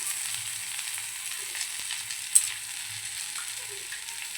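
Malvani-style karli fish frying in oil makes a quiet, continuous, even sizzle close by, with one small tap partway through and no voices.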